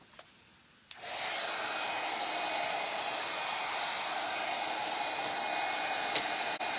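A heat tool starts with a click and then blows a steady, loud whooshing hum while warming a WoodUBend wooden cross piece, continuing evenly to the end with a brief knock near the close.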